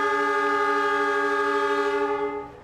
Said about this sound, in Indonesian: Kereta api Arjuno Express yang saya naiki telah tiba di stasiun Bangil.